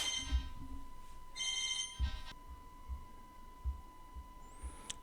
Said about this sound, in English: I keep on receiving some phone calls, but it's inevitable.